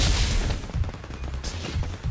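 Rapid gunfire in the Farlight 84 battle royale game crackles through dense, continuous bursts, close and loud, with a few sharper shots standing out and no talking.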